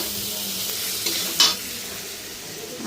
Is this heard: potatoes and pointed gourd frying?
yes